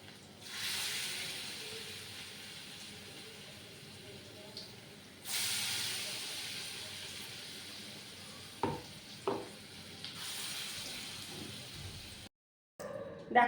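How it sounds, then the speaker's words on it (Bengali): Fritters (bora) fry in hot oil in a wok, a steady sizzling hiss that swells each time fresh batter is added, with a few short scraping stirs and no talk. "এখন আমি একে একে বড়াগুলো করছি।"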